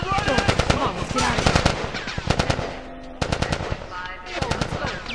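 Automatic gunfire in the video game The Last of Us Part 2 rattles in loud, rapid bursts, with a short pause near the middle before the shooting resumes.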